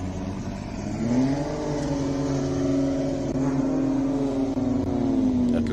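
A race car accelerating up the Simola hillclimb, its engine note rising in a loud, sustained tone that climbs and holds, passing fairly close with some crowd and ambient noise.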